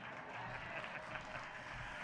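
Broad applause from an audience at a public gathering in Arusha honoring the regional commissioner, a steady, dense wash of clapping that holds evenly from start to finish.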